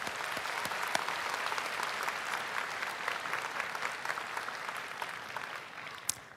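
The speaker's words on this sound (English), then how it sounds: "So students, give your families a round of applause" Graduating high school students applaud their families at a commencement ceremony, a sustained wash of many hands clapping in a large hall, steady and even, with a few sharper claps standing out near the end.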